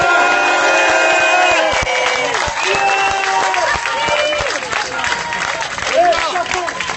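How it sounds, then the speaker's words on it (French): Steady applause from a crowd, with voices and cheering mixed in throughout. "Je vous demande de les applaudir."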